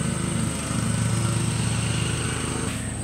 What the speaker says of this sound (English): She's mowing right now.